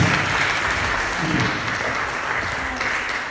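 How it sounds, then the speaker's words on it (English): An audience claps throughout, a dense, sustained burst of applause at a talk held in a church hall in Liverpool, fairly loud and close, easing off slightly toward the end. "Well done, give her a round of applause."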